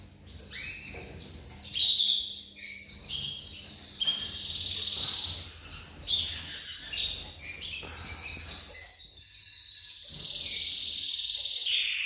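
Small birds chirp and tweet repeatedly close by, bright bursts of calls overlapping in irregular clusters with brief gaps, fairly loud and without talk.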